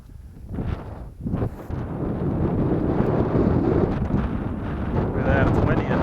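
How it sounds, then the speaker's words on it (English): Strong gusting wind before a thunderstorm roars across the microphone in a steady, broadband rush, building after a brief lull and continuing loudly to the end, with voices faintly mixed in. "it's windy enough to get my prop going"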